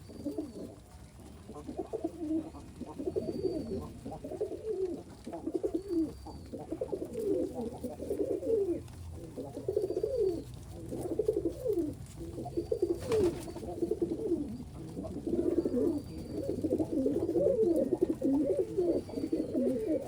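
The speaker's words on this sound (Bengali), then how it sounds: "দেখেন অনেক সুন্দর ডাকাডাকি করে আমার কবুতরগুলো" Giribaj pigeons in a loft cooing, repeated soft throaty coos overlapping in a steady rhythm from several birds nearby, continuing without talk.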